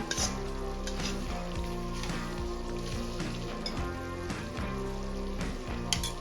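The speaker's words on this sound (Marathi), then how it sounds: "एकदा मिक्स करून घेऊया सर्व साहित्यामध्ये मिरची आणि पुदिना" Green chillies and mint sizzle as they are fried and stirred into a thick masala for Kashmiri chicken, a steady close crackle with a low rumbling hum underneath throughout.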